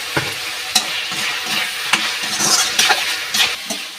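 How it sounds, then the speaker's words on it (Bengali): Potato pieces fried with salt in a pan for chicken chowmein, a continuous close sizzle broken by sharp clatters of a spatula stirring and scraping every half second or so, with no talking. "এই যে এবার আমি আলুটা ভেজে নেব"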